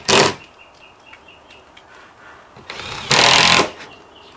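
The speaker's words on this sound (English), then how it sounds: "Put a bunch of screws in this to tighten it up." Two loud whirring bursts of a screw gun driving screws into new wood framing during a water-damaged drywall ceiling repair, one brief at the start and a longer one near the end, with quiet clicks and shuffling between.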